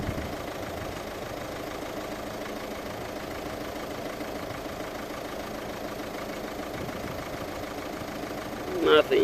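A Renault Megane II engine with a cylinder 2 misfire idles steadily with a low, even chugging hum, close by and continuous.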